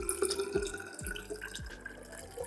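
Water runs and drips into a bottle being filled, a few distinct droplet plinks over a soft trickling flow, close and quiet, with no speech.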